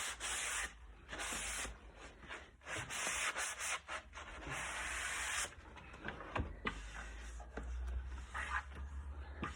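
Hand sanding along the edges of a mirror during a stenciling upcycle, steady rasping strokes in repeated bursts with brief pauses, close and fairly loud, no talking.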